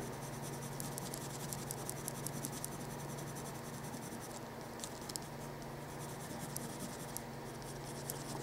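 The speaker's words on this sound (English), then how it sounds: "See, this pencil is good because it doesn't darken that much." Graphite pencil, a hard 5H lead, stroking across paper while drawing leopard spots and hair, a faint continuous scratchy patter of short strokes heard close up.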